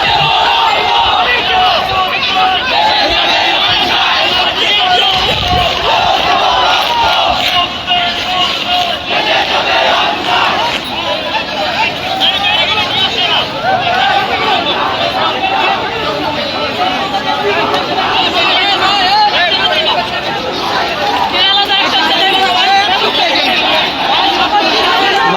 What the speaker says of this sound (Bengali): তারা তাদের দাবি আদায়ের লক্ষ্যে মুহুর্মুহু স্লোগান দিয়ে আসছে